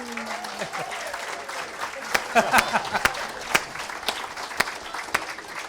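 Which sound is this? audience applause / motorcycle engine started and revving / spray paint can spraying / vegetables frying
audience applause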